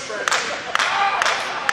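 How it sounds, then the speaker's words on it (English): At a pro wrestling match, wrestler Shane Taylor claps slowly and deliberately, four evenly spaced loud claps that ring out over a steady wash of arena crowd noise. "And Shane Taylor with a round of applause"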